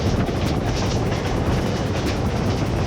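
A Vietnamese Reunification Express SE train runs on, its steady loud rumble and rhythmic clickety-clack filling the whole short stretch.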